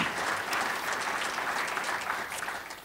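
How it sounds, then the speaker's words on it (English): A broadband summit audience claps in a continuous burst for the length of the clip, steady and fairly close, then thins slightly at the end. "we need to give these guys a round of applause"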